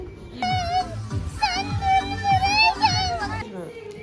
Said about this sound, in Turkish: Kediler de var burada.